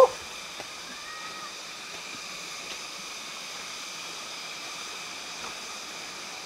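Tatiao Falls and its river in Silang, Cavite rush in a steady, even hiss of falling and flowing water, moderately distant and unbroken, with a brief knock at the start.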